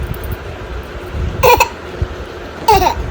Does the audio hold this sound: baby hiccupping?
yes